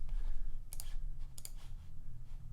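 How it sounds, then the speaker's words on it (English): Two quick pairs of mouse clicks, crisp and close, while a website template is edited on a computer, with a low steady hum beneath. "we can double click"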